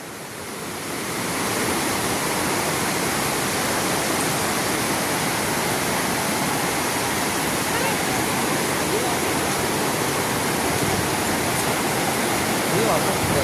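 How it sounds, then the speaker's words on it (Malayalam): Seetharkund waterfall in Vayaral village near Kollengode, swollen in the rainy season, roars as a steady, dense rush of falling water close by, holding an even level throughout. "വയറൽ ഗ്രാമത്തിലെ വെള്ളച്ചാട്ടം, സീതാർകുണ്ട് വെള്ളച്ചാട്ടം എന്ന് പറയും"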